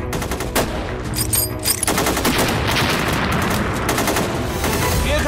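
Gunfire in a wartime drama: a few sharp single shots open, then bursts of rapid machine-gun fire rattle on loud and continuous to the end.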